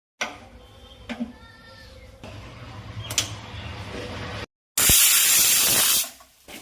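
Pressure cooker boiling jackfruit seeds, with faint kitchen clatter and a low hiss building before a loud, sustained burst of escaping steam that cuts off abruptly.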